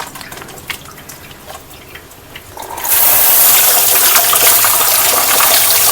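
Hands are washed with soap under a running tap, after hair dye has stained them black. Faint drips and handling noises come first, then a loud, steady gush of water that lasts to the end.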